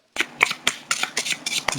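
Playing cards being shuffled and dropped by hand, a series of about eight sharp riffling snaps at uneven intervals, close and clear with no talk.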